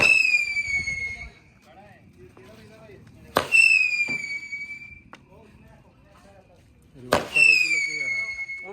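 Diwali firecrackers bursting outdoors: three sharp, loud bangs spaced a few seconds apart, each followed by a whistling screech that slides downward, with people talking and calling out between the blasts.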